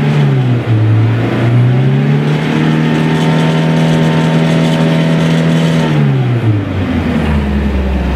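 A Renault Trafic van engine held near 4500 rpm, heard from inside the cabin: a loud, steady harmonic drone that climbs early on, holds, then winds down near the end, with no talk.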